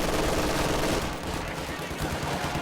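Dense gunfire from a Company of Heroes 2 battle between Wehrmacht and US forces, a loud continuous burst of rattling shots and blasts that fills the whole stretch, with a voice faintly underneath.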